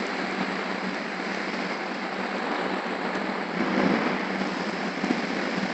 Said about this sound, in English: the rain is getting really serious